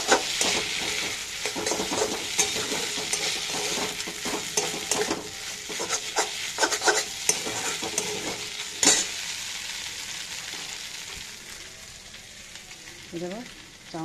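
Chow mein noodles are stir-fried in a hot pan, with loud sizzling throughout under repeated clanking stirs of a utensil against the metal, busiest early and easing toward the end; no talk is heard.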